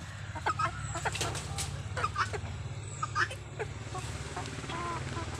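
Chickens cluck in short bursts while being fed on a farm where turkeys are also kept, with a steady low hum running underneath.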